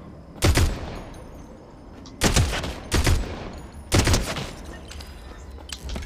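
Gunshots from a Fortnite Chapter 3 Season 4 match, fired in three separated loud bursts of rapid shots with quieter game ambience between them.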